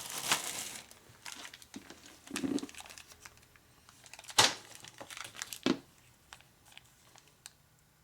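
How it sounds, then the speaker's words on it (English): A taped plastic bag is pulled out in a workshop, giving several close, crackling bursts of crinkling plastic that come in irregular spurts, with quiet gaps and no voices. "Maybe just take that bag out. Yeah, that was that taped bag, huh?"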